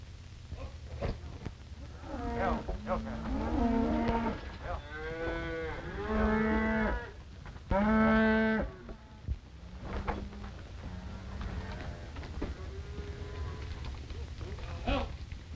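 Cattle moo repeatedly on a 1930s western ranch, a series of loud drawn-out bellows with harmonic tone, some overlapping, spaced across the stretch against a faint background hiss.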